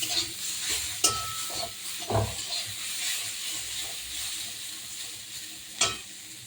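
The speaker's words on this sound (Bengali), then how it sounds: "এই চিচিঙ্গা ভাজা সর্ষে দিয়ে না ভাজলে পেঁয়াজ দিয়ে ভাজা যায়" Steady sizzling of snake gourd frying in a pan, with a few clinks and scrapes of stirring throughout.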